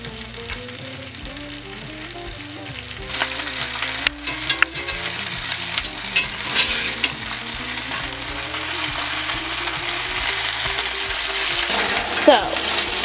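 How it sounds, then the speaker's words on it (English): Peasant potatoes with sausage sizzle and fry steadily in a pan, a continuous crackling hiss that grows busier with scattered pops and spatters. "Hear that baby start to sizzle"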